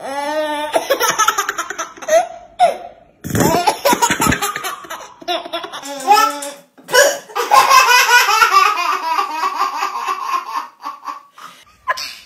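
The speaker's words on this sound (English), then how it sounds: "I can't stop hiccuping, and you can't stop laughing at my hiccups." A baby hiccups in short, sharp bursts between rapid, high-pitched fits of laughter, close and lively throughout.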